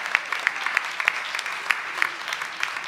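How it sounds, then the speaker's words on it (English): A crowd at a school board of education meeting gives AP scholars a round of applause, with steady, moderately loud clapping and a few sharper individual claps standing out. "How about another round of applause for all of our AP scholars this evening?"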